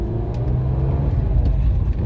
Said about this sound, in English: experience the sort of M engine noises, etc., from this car.